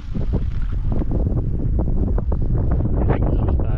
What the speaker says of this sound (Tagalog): Naririnig nyo, malakas ang hangin.